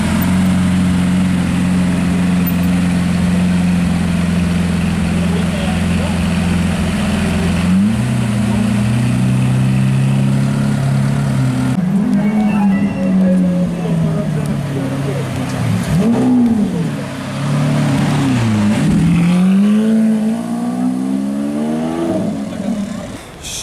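A blue Lamborghini Aventador sports car's engine rumbles steadily nearby on an evening street in Cannes, with revs rising and falling in the latter half, under crowd chatter.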